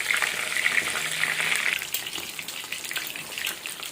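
A whole fish frying in hot oil, with oil spooned over the top, gives a steady, loud, close sizzle and crackle that carries without interruption and without speech.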